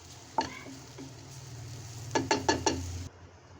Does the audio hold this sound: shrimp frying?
yes